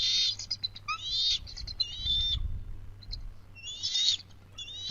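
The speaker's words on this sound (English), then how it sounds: "their voice is kind of shrill. They're warning that bird that we saw fly over." Eagles at a nest giving shrill warning calls, high thin piping cries in several bursts with short gaps, fairly close over a low steady background hum.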